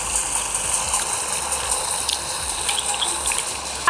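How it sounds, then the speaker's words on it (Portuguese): A waterfall in the Roblox game Build a Boat rushes and gushes in a steady, loud wash of water that carries on without a break from start to finish. "tá vendo essa cachoeira, gente? A cachoeira do lado esquerdo."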